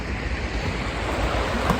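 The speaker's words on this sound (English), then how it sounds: "river's noisy and it's high" A high, swollen river rushes by at night near an Indian mound, a steady broadband roar of flowing water that fills the whole stretch without a break and with no voices over it.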